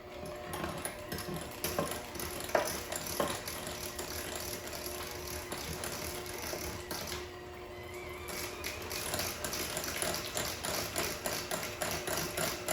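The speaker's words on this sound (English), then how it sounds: "we're going to start by just kind of whipping up our butter a little bit just to get it smoothed out" An electric mixer whips butter for cupcake frosting, a steady close mechanical whirring and rattling of beaters against the bowl that runs continuously, without talk.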